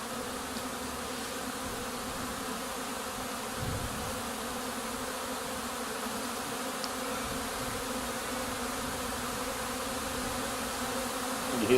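A swarm of honeybees buzzes in a steady, dense drone around a beeswax-scented cavity in September, a continuous layered hum with no pauses, close and even throughout.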